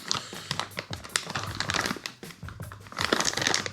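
A plastic bag crinkling and rustling while a Kyosho Ultima 87 Worlds Edition radio-control car kit is unboxed, with irregular close crackles and crunches that swell and fade over a few seconds.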